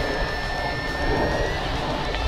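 An FMS Strega RC model airplane flies overhead with a steady, sustained high-pitched motor whine at even loudness and no speech.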